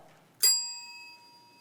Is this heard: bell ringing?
yes